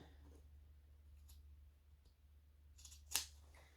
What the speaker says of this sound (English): I always push on the end of the scissors. It helps to snip it.